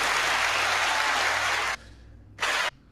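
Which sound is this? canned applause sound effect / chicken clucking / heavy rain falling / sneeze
canned applause sound effect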